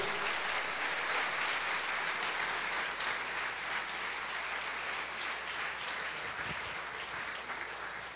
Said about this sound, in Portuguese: Isso merece uma salva de palmas ao nosso Deus.